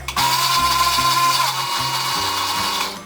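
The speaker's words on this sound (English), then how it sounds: "I've added just the basil and the olive oil into the Vitamix, and I'm going to start at a really low setting, about 2" Vitamix blender running on a low setting, around 2, with basil and olive oil: a loud, close motor whir that starts abruptly, wavers slightly, then winds down at the end.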